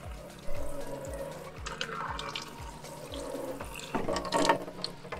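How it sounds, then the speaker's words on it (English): A kitchen tap in a self-built camper van runs water into a big sink, with a steady splash under a rhythmic clicking mechanical sound and a brief louder burst near the end. "Nice tap."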